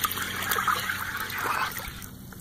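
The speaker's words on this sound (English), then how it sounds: "A bucket full of water." Water trickles and splashes into a bucket while a truck is being washed, a soft, close gurgling pour lasting a couple of seconds with no voices.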